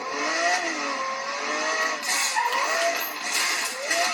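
Car engines from the racing game Need for Speed Most Wanted (2012) rev and shift, with rising and falling tones over a constant roar of speed and road noise, loud and continuous.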